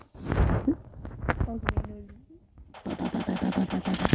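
Gunfire in a Roblox shooting game, rapid bursts of automatic shots and a few single cracks, the second half a fast continuous volley, with a voice speaking in between.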